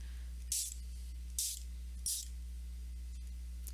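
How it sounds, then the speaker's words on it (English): Three short hissing bursts of Fun Stampers Journey Color Splash color spray misting slowly, spaced apart, over a steady low hum. "what happens if I do that kind of a slow spray"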